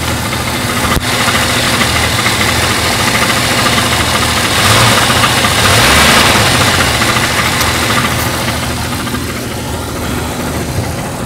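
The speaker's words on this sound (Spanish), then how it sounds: "No sé si alcanzan a escuchar ese ruidito que hace taca taca taca taca" A Jeep Cherokee engine idles steadily with a persistent rapid ticking, a taca-taca rhythm riding over the low hum, heard close and alone throughout.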